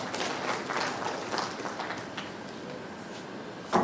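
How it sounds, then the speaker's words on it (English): A crowd at an inaugural lecture applauds, clapping steadily and then gradually tapering off, with faint voices mixed in. "Shall we clap for the government who attended to us?"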